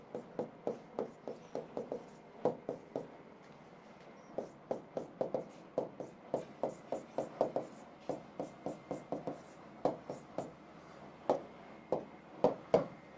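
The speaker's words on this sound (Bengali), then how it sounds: "আমি আর একটা উদাহরণ লিখি" Hand writing on a board or paper during a chemistry lesson, with a steady run of short, quick scratching strokes in irregular bursts, fairly close and alone.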